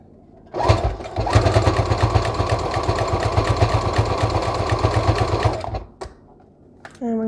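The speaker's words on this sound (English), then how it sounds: "all I'm going to do is back stitch and go for it" A sewing machine back stitches and then runs a steady fast stitch along the hem of a wide strap cami, loud and close for about five seconds before stopping and leaving only faint handling sounds.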